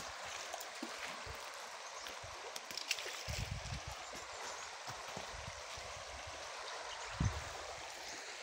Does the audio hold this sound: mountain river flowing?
yes